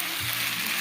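Onions sizzle steadily in a hot pot with tossed pasta, a close, continuous hiss of frying with no talk over it.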